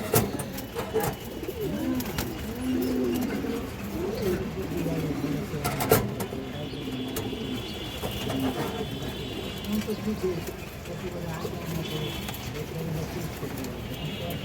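Domestic pigeons, including high-flyer breeds, coo in repeated soft, low rolling calls close by, with a voice talking over parts of the clip and occasional light clattering.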